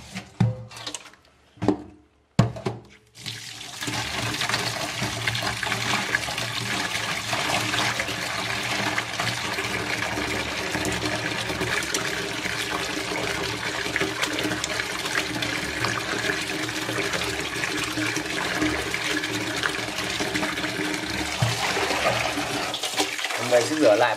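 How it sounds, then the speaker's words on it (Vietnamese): Pork intestines are rinsed under clean running water in a kitchen. After a few brief knocks at the start, a steady, close splashing flow continues without a break. "mình sẽ rửa sạch lại bằng nước sạch nhé"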